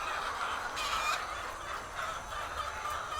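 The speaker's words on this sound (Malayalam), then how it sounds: "ഇവിടെയും ഒരുപാട് കോഴികളുണ്ടോ" Many laying hens fill a long poultry farm shed in Tamil Nadu with a constant, dense chorus of clucks and squawks, moderately loud and continuous with no talk.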